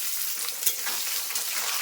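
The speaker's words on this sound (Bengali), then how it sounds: "এখন আলু টমেটো একটু ভাজা ভাজা হবে" Onions, potatoes and tomatoes fry together in a pan during home desi cooking, giving a steady, close sizzle with a soft crackle that runs unbroken and at an even level, with no talking.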